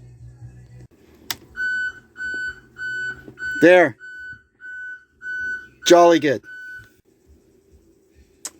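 The reversing beeper on a 2003 Dodge RAM 3500 dually pickup sounds a steady series of evenly spaced electronic beeps, briefly interrupted by a couple of short spoken remarks nearby.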